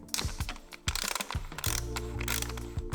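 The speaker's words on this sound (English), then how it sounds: "I'm gonna remove the bolt that's holding the coil pack in." A ratchet clicks in quick uneven bursts while loosening the coil pack bolt on a Porsche Cayenne, close and crisp, with brief pauses between strokes and a short metallic rattle near the end.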